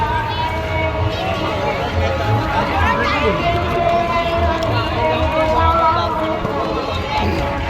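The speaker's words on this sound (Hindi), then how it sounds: "ये क्रिकेट मैच से ज़्यादा भीड़ लग रही है मेरे को।" A dense festival crowd fills the Ramleela fair on Dussehra at the Polo Ground near Kirti Stambh in Vadodara, with a steady, loud wash of overlapping chatter and babble that never lets up.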